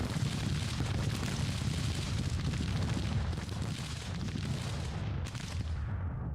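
Continuous rumbling battle din of cannon fire in Grand Tactician: The Civil War, dense overlapping booms and distant blasts forming a steady roar that cuts out abruptly near the end.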